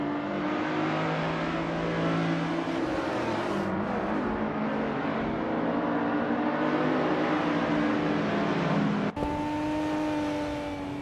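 A 2015 Mazda MX-5 race car engine in a racing video game drones steadily at high revs, a close, sustained buzzing whine that shifts abruptly in pitch near the end as the car changes gear.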